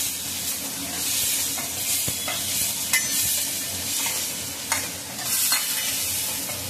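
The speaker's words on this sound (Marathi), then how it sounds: "चांगलं तेल सुटेपर्यंत आपल्याला" Ground spice paste fries in oil over a low flame for a home-cooked curry, giving a constant close sizzle broken by a few sharp spoon-against-pan knocks and stirring sounds.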